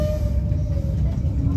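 A Christchurch tram slows as it arrives at a stop, a steady low rumble with a faint held tone above it, heard close and continuous.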